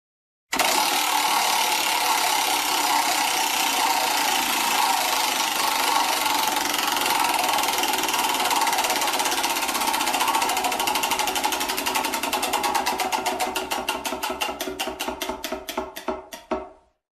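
A prize wheel spinning steadily, its ratcheting clicks blurring into a fast continuous rattle that slows into distinct ticks near the end before stopping, loud and alone.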